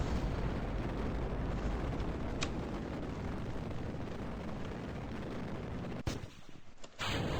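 Simulated rocket engine roar from RP-0 holds loud and steady, then cuts off abruptly near the end with a sharp break and a short burst as the stage decouples.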